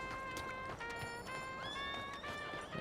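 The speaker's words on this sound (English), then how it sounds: "it looks like my horse Rachel followed me over here" A horse in the video game Red Dead Redemption 2 makes soft clip-clop hoof sounds beneath sustained tonal game music, with the steps faint and fairly close.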